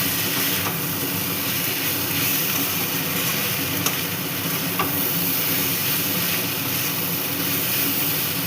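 Egg bhujia being stirred into a cooked spice masala in a pan for dhaba-style egg tarka, a steady close sizzle and frying hiss with faint scraping of the spoon, continuous and even.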